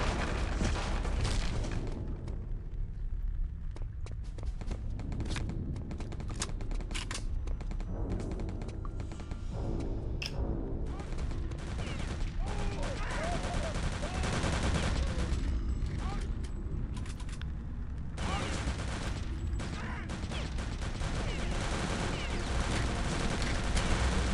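Enemy soldiers trading gunfire in Wolfenstein VR, a long steady barrage of machine-gun bursts and scattered shots with occasional booms, dense and continuous, with a voice talking over it at times.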